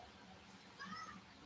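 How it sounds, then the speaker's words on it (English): A pet cat meows once or twice, fairly faint and brief, against quiet indoor background noise. "Sorry, that's my cat."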